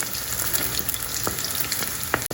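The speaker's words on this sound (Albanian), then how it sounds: "tani do skuqim të gjitha petullat e tjera me radhë" Potato fritters fry steadily in hot oil with a constant, close sizzle and a few sharper pops and crackles, with no voices over it.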